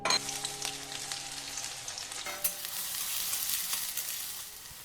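Two large chopped onions hit hot refined oil in a kadai, crackling and sizzling up close; a fresh, louder burst of frying flares midway and keeps hissing steadily.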